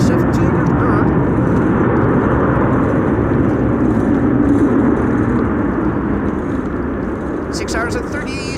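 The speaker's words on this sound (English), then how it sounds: "KLM flight 696 arriving from Toronto in Canada. 777-200" A KLM Boeing 777-200 airliner arriving at windy Amsterdam Schiphol Airport, a steady loud jet roar with broad rumble throughout, wind buffeting, and a voice talking over it.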